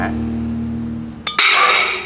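A Bosch GWX 180 LI X-Lock cordless angle grinder hums down, then a sharp metallic click and clatter ring out as the quick-release disc is snapped off, close and loud.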